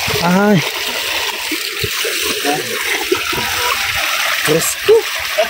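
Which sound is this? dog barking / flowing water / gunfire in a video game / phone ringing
flowing water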